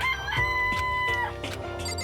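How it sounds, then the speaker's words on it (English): Chickens in the Danganronpa video game crow and cluck loudly over a busy game soundscape, with a long sustained rooster-like call near the start and scattered squawks afterward. "Look at all the chickens."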